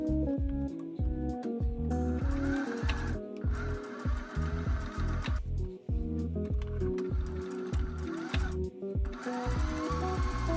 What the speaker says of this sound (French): je vais pouvoir assembler les 3 couches de tissu ensemble en cousant d'abord les 4 côtés